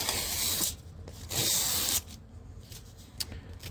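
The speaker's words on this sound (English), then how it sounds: "I can peel off that coating" Plastic coating is peeled off the sanded, bevelled edge of a workpiece, giving two short, close ripping rasps followed by quieter scratchy handling.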